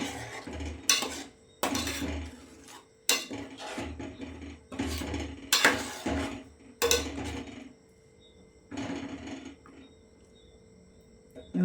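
Mackerel being mixed into spice paste for Mangalorean pulimunchi in an iron pot, repeated bursts of clattering metal scraping and knocking, close and loud, in uneven strokes with short pauses between.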